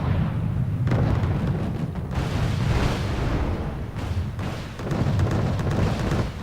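Missile volleys exploding in the Wargame: Red Dragon real-time strategy game, a dense, rumbling barrage of booms and bursts with heavy low end that rolls in repeated surges, loud and continuous.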